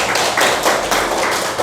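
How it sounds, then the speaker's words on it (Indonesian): A classroom group applauds for Silvi, several seconds of dense, close hand clapping in uneven bursts with no talking over it. "Tepuk tangan untuk Silvi"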